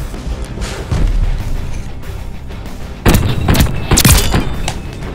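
Bomb blasts in Call of Duty: Vanguard multiplayer, loud booming impacts and crashing debris over rumbling battle noise, with heavier explosions clustered in the second half.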